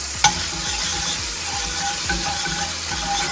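Chopped garlic sizzling in melted butter in a pan, a steady close frying hiss with faint stirring scrapes and one sharp clink near the start, continuing without a break.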